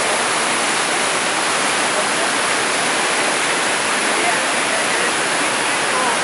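Cascade Falls on the Cal Salmon river roars as a dense, constant rush of whitewater, loud and close with no change or pause across the stretch.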